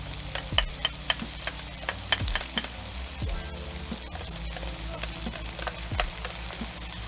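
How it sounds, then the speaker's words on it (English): Garlic sizzles in a hot pan over medium heat for a garlic honey shrimp stir fry with sugar snap peas: a steady, close frying hiss dotted with sharp crackles and occasional utensil scrapes. "now we're going to add our garlic."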